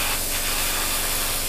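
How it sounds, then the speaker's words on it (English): An airbrush sprays interior colour paint onto a Tamiya 1/48 scale P-47D or P-51D aircraft model, a continuous close, loud hiss of air and paint with no talking. "by actually spraying it the interior colour that you're doing"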